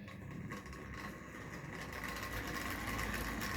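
A noisy electric motor drives a 1971 Tri-ang Hornby Flying Scotsman model train engine, giving a steady, close whirring drone that holds without pause.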